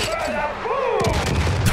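A vehicle blowing up in the video game Far Cry New Dawn, heard as a loud burst of booming, crackling gunfire-like blasts, with game sounds swirling around it.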